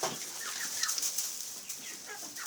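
Several bantam hens, among them a buff Brahma dwarf, cluck quietly and repeatedly in a poultry coop, with a faint flutter and soft continuous bird chatter, no voices.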